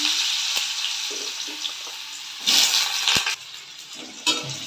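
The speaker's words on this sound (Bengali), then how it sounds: "আলুগুলো আগে একটু ভাজা ভাজা করে নেব" Potatoes sizzle and crackle in hot oil in a wok with dried red chillies and cumin, a steady frying hiss with a few louder bursts and light clinks of stirring.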